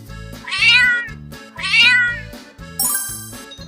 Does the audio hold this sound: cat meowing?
yes